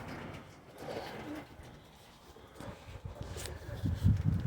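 Racing pigeons cooing in a loft, with soft low coos near the end over faint background rustle and scattered bird sounds, alone without speech.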